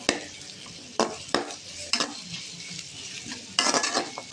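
Two garlic cloves, with small onions, sauté briefly in a pan for a chicken kulambu masala, giving a steady soft sizzle. A spoon stirs and scrapes against the pan in several sharp, close clinks; no one speaks.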